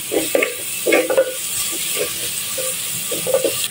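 Onion and garlic sauté in a hot pan with a pinch of salt and black pepper: a steady sizzle broken by irregular scraping and stirring bursts, close and fairly loud.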